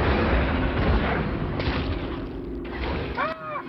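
Blaster fire and booming impacts from LEGO Star Wars: The Skywalker Saga, a dense, loud barrage of battle noise that runs throughout, with brief voices and effects mixed in near the end.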